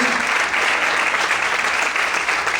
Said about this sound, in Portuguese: Você pode aplaudir o Senhor, glória a Deus.